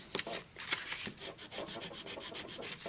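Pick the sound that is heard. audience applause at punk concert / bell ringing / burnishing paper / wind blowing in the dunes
burnishing paper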